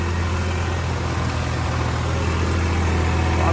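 A steady, low tractor engine idles continuously at close range, a deep rumble with a constant mechanical drone and no voices.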